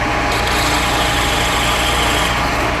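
A lathe drilling a hole at fairly quick speed after a center drill, producing a steady, close machine whir with a continuous high-pitched hum throughout.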